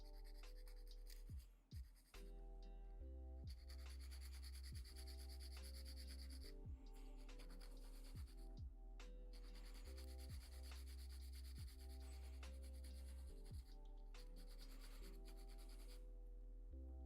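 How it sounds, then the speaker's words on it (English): A painted miniature model being sanded down, with long, repeated rubbing strokes of abrasive in a steady back-and-forth rhythm, close and quiet over a low hum, with no one talking. "This guy had to be sanded down."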